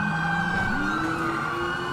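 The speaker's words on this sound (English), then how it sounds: "I need to turn my siren back on" A police car siren wails loudly and close by, its tone sweeping steadily through a short stretch over engine rumble with no voices.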